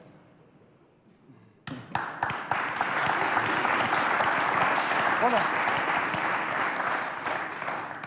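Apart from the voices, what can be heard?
audience clapping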